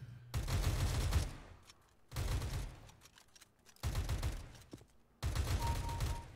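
Rapid gunfire from the CS:GO shooter game comes in four loud sustained bursts, each lasting about a second, separated by short quieter gaps with no talk over them.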